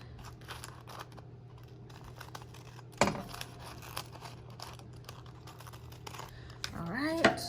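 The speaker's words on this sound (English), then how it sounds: "So we're gonna go ahead and cut this." An acetate sheet is cut with scissors in a craft setting, heard as faint, close crisp snips and crinkles, with one sharper crackle partway through and plastic rustling near the end. Someone speaks quietly over it.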